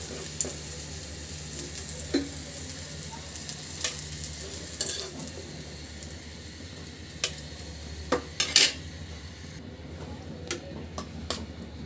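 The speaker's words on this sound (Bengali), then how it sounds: "একইভাবে আমি সবগুলো ভাজি করে নিব।" Egg and onion fritters frying in oil, a soft, steady sizzle broken by scattered ticks and clinks of a utensil against the pan, with a few sharper taps, quiet and close, no talking.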